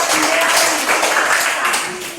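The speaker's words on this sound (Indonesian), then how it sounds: "Berikan tepuk tangan buat" A class of pupils claps together loudly and steadily close by, the dense applause continuing for about two seconds.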